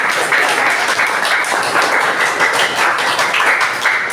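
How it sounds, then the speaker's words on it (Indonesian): A class of high school students at SMAN 8 Tambun Selatan clapping together, a loud, continuous and even burst of applause filling the whole stretch without talk. "Tepuk tangan untuk kita semua."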